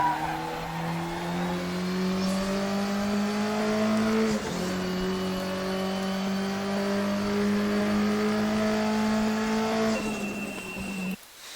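A Volvo 240T turbo engine in the Raceroom racing game holds a loud, steady drone under full throttle, with a brief dip and rise partway through and a sudden drop near the end.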